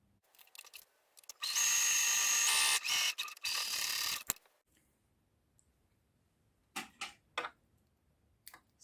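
A sewing machine runs in short bursts and one longer steady run while stitching down a fabric roller loop, close and clear, with quiet pauses and clicks between stitches and no talking.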